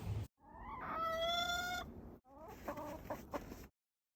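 Backyard hens clucking close by, a drawn-out rising squawk followed by a series of shorter clucks, clear and alone with no talking.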